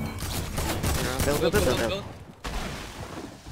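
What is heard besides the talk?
shotgun fire in a video game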